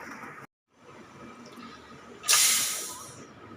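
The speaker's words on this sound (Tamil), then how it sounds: "ஸ்டீம்லாம் ரிலீஸ் ஆகிடுதுங்க இப்போ ஓப்பன் பண்ணிக்கலாம்" Steam bursts out of a pressure cooker cooking fenugreek porridge with a sharp, loud hiss close by, then gradually tapers off.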